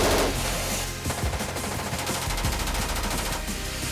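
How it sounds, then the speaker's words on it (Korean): A K16 7.62mm machine gun fires outdoors at a defense manufacturer's test range, a loud, continuous rapid burst of gunfire with dense overlapping shots throughout. "최근 이곳의 총성이 멈추지 않고 있다."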